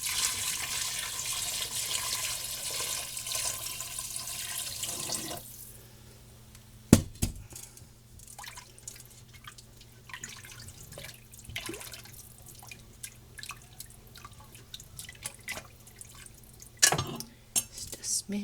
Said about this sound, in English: Going to add my broth.